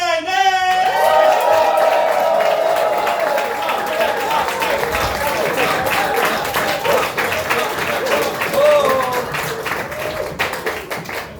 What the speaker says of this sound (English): We're going to settle in to a huge cheer and a clip clop